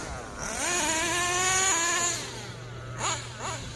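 Kyosho USA-1 Nitro V2 RC monster truck engine revs up into a sustained high-pitched whine, holds, then drops off with two brief blips near the end, heard close with no talk.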